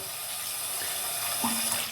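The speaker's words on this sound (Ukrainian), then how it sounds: "Включив я воду з холодного крана" Steady cold water pours from a tap into a sink, a continuous close hiss without any voices.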